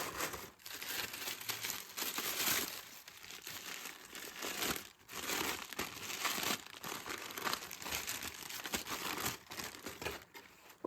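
Continuous crinkling and rustling of packaging as a small gift from a knitting advent calendar is unwrapped close up, loud and busy with brief pauses throughout.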